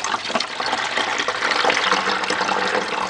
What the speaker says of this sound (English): And now I'm going to top this off with distilled water.